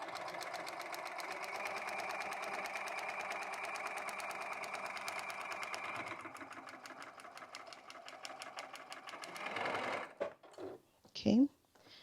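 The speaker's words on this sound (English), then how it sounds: "we're going to sew starting off the edge and finishing off the edge" Sewing machine stitching a paper-pieced quilt block, a close, rapid, steady mechanical chatter for several seconds, then slowing and stopping with a few clunks and handling sounds at the end.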